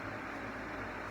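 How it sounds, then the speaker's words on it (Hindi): A ceiling fan runs indoors as a steady, broadband whooshing hum with a low drone, constant and unbroken throughout, with no voices. "पंखे की आवाज़ बहुत ज़्यादा आ रही है ना"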